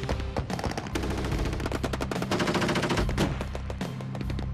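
Bushmaster autocannons on LAV armored vehicles fire during a combat training exercise, a dense, loud stream of rapid heavy shots with overlapping bursts from more than one gun, sustained without pause.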